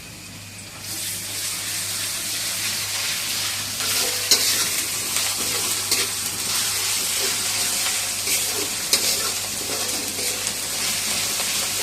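Ginger garlic paste fries in a hot pan while biryani is being cooked, a loud steady hiss of sizzling oil with occasional clicks and scrapes from stirring, lasting throughout.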